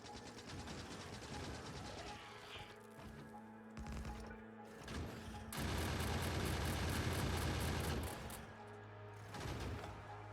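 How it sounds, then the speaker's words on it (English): Multiple gun turrets in the factory game Krastorio 2 fire rapid mechanical bursts at a forest, a dense rattling barrage swelling loudest in the middle, mixed with game music and effects. "Destroying the forest with gun turrets."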